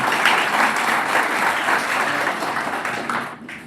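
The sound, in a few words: audience applause for a prize winner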